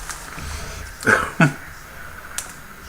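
Two quick clattering knocks of objects being set into a box, then a faint tap, against a quiet room background.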